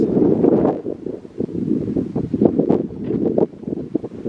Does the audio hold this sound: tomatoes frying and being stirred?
no